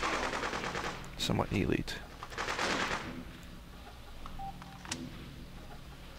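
Enemy gunfire in the video game Freedom Fighters, a short loud burst of rapid shots followed by scattered fainter pops, with someone talking over part of it.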